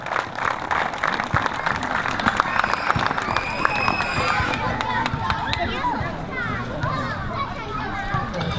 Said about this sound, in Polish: Duże brawa dla trenera Pacholarza.